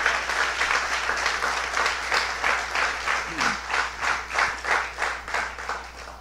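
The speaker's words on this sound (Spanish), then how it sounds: "Denle un fuerte aplauso al Señor." A church congregation claps together in a loud, rhythmic wave of applause that keeps going without a break. It swells into steady, even pulses toward the end.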